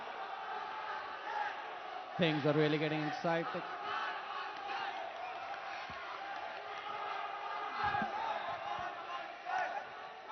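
Team members cheer loudly at an ABU Robocon 2022 India robot match, a sustained crowd roar with a burst of shouts and whoops early on, heard under an excited commentator's voice throughout.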